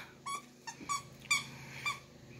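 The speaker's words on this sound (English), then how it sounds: "Squeak, squeak, squeak, that's what she says." A dog's squeaky toy squeaks in short repeated bursts, four or five high squeals at uneven intervals, fairly close in a quiet indoor room.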